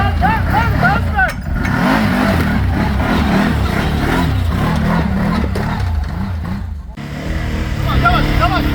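An ATV engine revs and idles during a group trail ride, rising and falling throttle under nearby talk, with brief dips as the throttle eases off.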